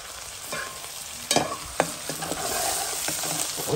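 Sausages are stirred in a sizzling pot for rougail saucisson, with close scraping and knocking of the spoon against the pot over a continuous frying hiss.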